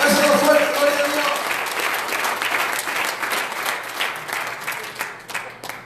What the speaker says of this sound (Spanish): Un aplauso al Señor en esta hora